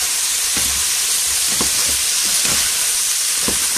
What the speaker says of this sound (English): we'll fry this all up until it's nearly all brown, all toasty